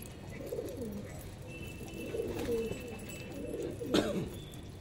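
Pigeons coo softly nearby while being fed roti, low throaty murmurs recurring over faint background hum, with a sharper flutter or call near the end.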